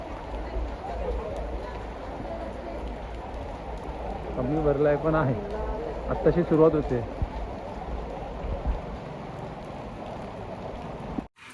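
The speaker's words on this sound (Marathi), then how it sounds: "भरपूर पाऊस आहे आत्ता" Steady, heavy monsoon rain hisses throughout in Konkan, with someone speaking over it for a few seconds in the middle.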